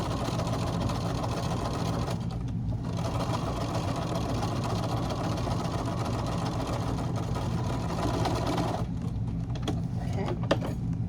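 Sewing machine stitching across fabric pieces for a 10-inch square bucket, a steady close mechanical hum that pauses briefly twice, then resumes with a few faint clicks near the end.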